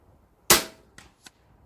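A sub-12 ft-lb air rifle fires a pellet in light wind. One sharp loud crack decays briefly, followed by two faint, short ticks.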